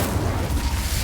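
The Incendio fire spell is cast in Hogwarts Legacy during a fight against poachers and goblins, producing a short, dense, rumbling burst of flame with a low booming body.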